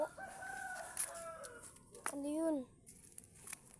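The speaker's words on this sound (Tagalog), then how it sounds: "Ay manok." A chicken in the countryside gives several rising, drawn-out calls close by, with someone talking over them.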